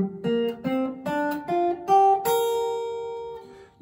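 Guitar solo in the minor pentatonic scale, a short run of single picked notes stepping upward, ending on a ringing sustained high note, close and clear with no talking.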